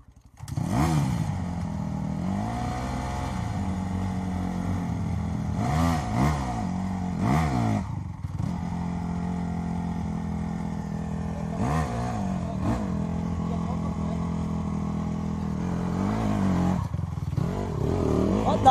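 A dirt-bike motorcycle revs hard and struggles to climb a steep forest trail, engine droning loud and steady with surging throttle bursts, while people shout and talk over it nearby.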